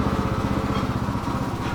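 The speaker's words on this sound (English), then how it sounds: "backing out with a lawnmower" A lawn mower's small engine runs close by near a greenhouse, a loud, steady rapid putter with an even pulsing rhythm that continues throughout without talk.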